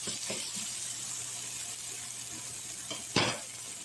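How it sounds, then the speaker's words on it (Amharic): Red onion sautés in a pan with garlic and tomato, a quiet steady sizzle with a few soft stirring clicks and one sharp utensil scrape near the end. "ቀይ ሽንኩርት ማዋዝ ማለት ነው"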